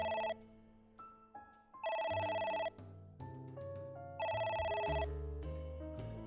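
A phone rings in the video game AI: The Somnium Files, a loud electronic ringtone repeating in bright melodic bursts over a steady synthetic background tone, with no talk.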